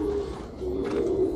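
Pigeons kept as breeding pairs in Hyderabad give soft, low throaty coos, a close rolling murmur that lasts the whole moment with faint background noise.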